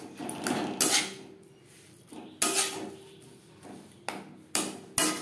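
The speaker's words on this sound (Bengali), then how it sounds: "আমি খুন্তি দিয়ে বেশ ভালো করে মিক্সড করে নিলাম" A metal spatula clangs and scrapes against the pan while a spiced potato filling is mixed, giving a series of sharp, ringing strikes at irregular intervals with quieter scraping between them.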